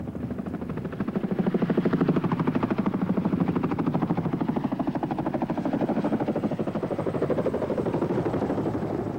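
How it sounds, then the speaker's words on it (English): Chinook helicopter rotors thud in a steady, rapid chop with a droning engine underneath, sustained and fairly loud throughout, during the 1991 Desert Storm ground assault. "the larger Chinook helicopters carrying additional fuel"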